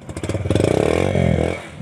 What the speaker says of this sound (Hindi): सेल्फ स्टार्ट का बाइक होगी स्टार्ट